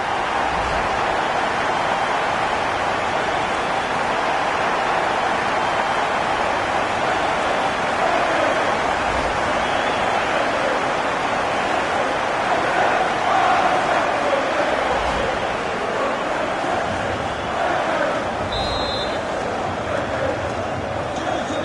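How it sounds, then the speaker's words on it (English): A broad, continuous crowd roar from a packed stadium in the football video game FC26 during a derby match, steady and loud throughout with slight swells. "And listen to the roar of the crowd."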